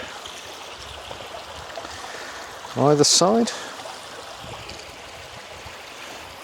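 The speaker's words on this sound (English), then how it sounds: "babbling brook" A babbling brook flows beneath a small footbridge on a Dartmoor walk near Lustleigh, giving a steady, even rush of running water throughout, with a person speaking briefly midway.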